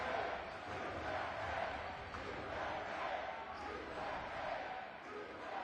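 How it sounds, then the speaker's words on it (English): Crowd at the open men's basketball final of the 2022 Maccabiah Games, US versus France, roaring in a steady, dense wash of noise that holds level throughout, with no clear single voices standing out. "And listen to the crowd."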